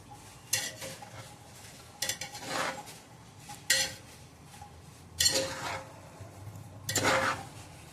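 A spoon scrapes and stirs prawn biryani rice in a metal pressure cooker, coming in about five separate bursts of metallic scraping and clinking between quiet pauses, close up and without speech.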